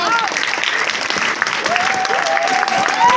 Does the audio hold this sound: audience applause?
yes